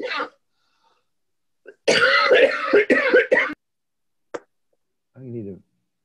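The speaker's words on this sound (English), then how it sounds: "I'm going to go ahead and mute a few people because some people are coughing." During an online video call, someone clears their throat in a loud, rough burst, followed by a short cough. A few faint clicks and a brief voiced sound are scattered across otherwise quiet gaps.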